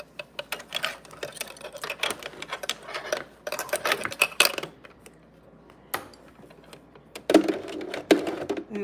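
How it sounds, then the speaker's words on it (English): A regular household sewing machine runs a single straight stitch on dress fabric, heard as rapid close mechanical clicking in uneven bursts with brief pauses and heavier clacks near the end. "I decided to use my regular sewing machine just because I already had the thread color in there"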